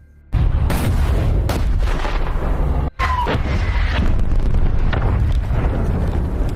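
Heavy long-range artillery fire booms in repeated deep blasts over a constant roaring rumble, loud and sustained.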